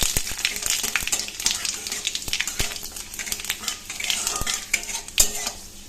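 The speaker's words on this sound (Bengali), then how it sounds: "কড়াইতে তেল দিয়ে দিয়েছি, আর এখানে 5 ফোড়ন আর একটা শুকনো লঙ্কা চিড়ে দিয়েছি" Panch phoron and a split dried chili frying in oil in a kadai, close and steady sizzle with sharp clinks of a utensil against the pan scattered throughout.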